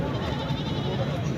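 A goat bleats briefly amid the busy din of a crowded livestock market, the call partly buried under close chatter and general murmur.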